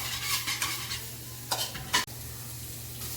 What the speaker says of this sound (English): Then we're gonna let these ingredients get to know each other, mix them up.